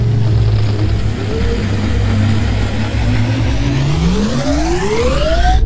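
A spaceship blasts off and climbs, its loud engine roar rising steadily in pitch like a revving motor, continuous and close throughout.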